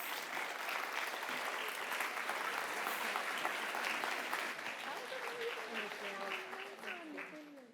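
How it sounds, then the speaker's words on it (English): An audience at a student conference applauds after a performance, dense clapping that fades toward the end as a voice begins talking over it. "Another round of applause and for yourselves as well for performing"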